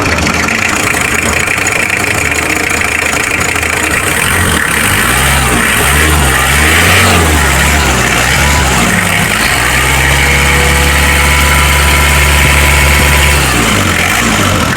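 A Mitsubishi Adventure diesel engine runs loud and close at a steady idle, with a couple of brief revs that swell and fall back to a throbbing, even rumble.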